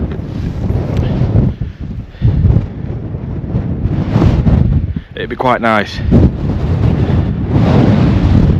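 Strong gusty wind buffets the microphone on an exposed hill hike in the Peak District between Crook Hill and Alport Castles, roaring loudly almost throughout with brief lulls, while someone speaks briefly over it.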